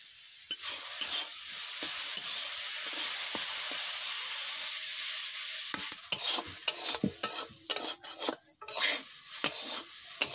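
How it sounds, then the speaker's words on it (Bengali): Potato pieces frying in a pan with a little salt give a steady close hiss, followed by irregular scraping and clinking of a utensil stirring against the pan. "এরপর আমি আলুগুলোকে ভেজে দিচ্ছি।"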